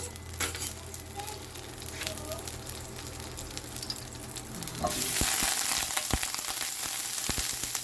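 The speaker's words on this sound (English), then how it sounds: "As you can hear, my pan is warmed up. We're just going to melt that butter down." Butter melts in a hot pan with a soft, crackling sizzle that jumps suddenly louder and brighter partway through, then hisses steadily with scattered pops.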